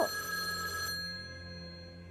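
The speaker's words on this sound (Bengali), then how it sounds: "ফোন তখনও এক নাগাড়ে বেজে চলেছে।" A telephone bell rings at home, one bright metallic burst that cuts off and leaves a fading ring-down tone.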